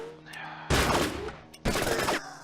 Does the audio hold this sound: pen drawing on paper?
no